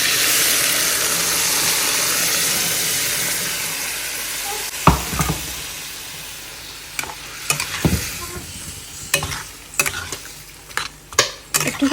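Boiled chickpeas tipped into a hot frying pan, a loud broad sizzle that fades over several seconds, followed by scattered sharp scrapes and clacks of stirring close by.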